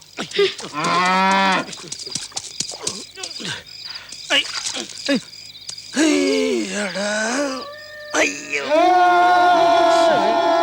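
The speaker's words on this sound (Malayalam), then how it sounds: "3-4 ദിവസമായില്ലേ ആ പയ്യൻ നിന്ന് അമറിലോട് അമറില്." A cow moos loudly and close by several times, long drawn-out lows separated by short pauses and quieter background noise.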